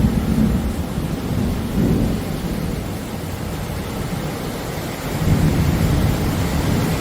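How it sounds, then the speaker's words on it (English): Heavy rain pours down in a thunderstorm, a loud dense hiss with deep rolling rumbles of thunder swelling and fading, with no voices. "Holy shit, it's raining hard."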